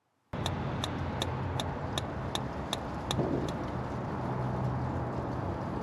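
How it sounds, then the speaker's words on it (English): The propane fridge igniter in a travel trailer ticks out a series of about nine sharp, evenly spaced clicks over a steady low rumble of background noise, then falls quiet while the hum continues. "You'll hear a clicking sound. That's the igniter creating a spark to ignite the propane."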